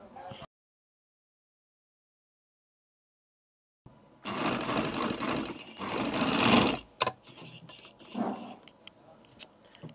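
A sewing machine runs a double stitch along kameez sleeves, starting after a silent gap with a loud whirring burst, then short stop-start runs of stitching.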